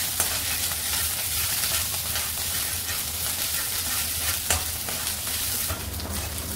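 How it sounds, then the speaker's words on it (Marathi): Ginger garlic paste sizzles steadily in hot oil in a pan, a continuous close crackling hiss with occasional stirring scrapes and no talking. "अद्रक लसणाची पेस्ट चांगली फ्राय करून घेऊया आपण।"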